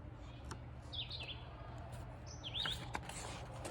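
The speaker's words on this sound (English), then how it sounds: "The bird is still singing along back there." A bird sings in the background with a few short, clear chirps and whistled phrases over a steady low outdoor hum, fairly faint and distant, with no talking.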